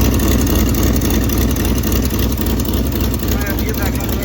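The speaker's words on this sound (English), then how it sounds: "it sounds a little better, but the passenger side still sounds like it's got a leak" A 1965 Ford Mustang engine with a passenger-side exhaust leak runs loud and close, a steady rumbling idle with raspy pulsing throughout.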